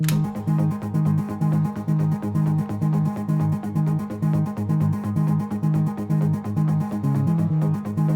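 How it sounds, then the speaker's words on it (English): Repeating synth lead notes pulse in a steady, even rhythm over a sustained background, loud and close, with no voices. "this is how the leads sound like in the intro here"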